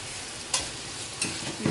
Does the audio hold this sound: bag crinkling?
no